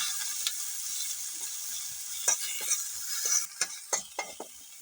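Green onions frying in a pan over a village cooking fire while being stirred, a steady hiss of sizzling oil broken by scraping, clacking stirs that grow more frequent toward the end.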